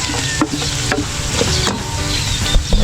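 Onions stirred in a hot frying pan, a loud continuous sizzle with repeated scraping and clacking of a utensil against the pan, close up and with no talking.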